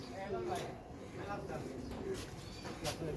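Pigeons in a hand-held pair coo with soft repeated throaty calls, close by, while someone talks over them and a few sharper chirps or clicks cut through.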